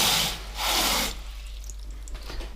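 Tap water is drawn into a pot for cooking meat, with two short, loud rushing gushes followed by quieter clinks and shuffling nearby. There is no talking.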